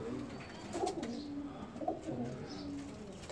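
Soft, low coos from Indian BMW-breed pigeons in a loft repeat in short rolling phrases, fairly close, over a quiet background hum.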